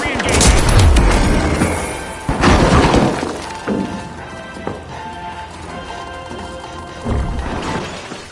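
A goo grenade is thrown in the video game The Finals, one of several loud shattering, splattering bursts amid busy gunfire and match noise.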